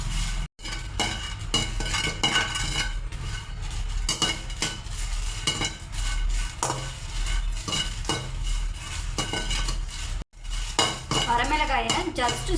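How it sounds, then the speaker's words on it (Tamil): Dry red chillies roasting in a pan, with continuous scraping and clinking of a metal spatula against the pan over a low sizzle, close and busy throughout. "வரமிளகாய் நம்ம நல்லா வறுத்துக்கலாங்க."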